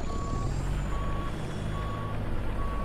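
Reversing beeps from a truck in the Euro Truck Simulator 2 video game while parking, four evenly spaced electronic tones sounding loud and steady over a constant low engine rumble.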